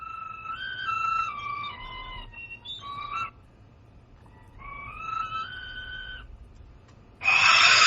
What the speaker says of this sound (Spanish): Sonido percutiendo el interior de uno de estos silbatos intactos de la muerte